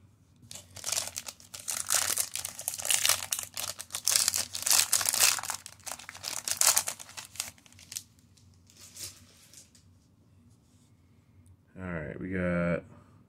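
2022 Capstone baseball card packs are ripped open with bursts of crinkling foil and tearing wrapper, loud and close for several seconds. The crinkling then fades to quiet handling, and a voice comes in near the end.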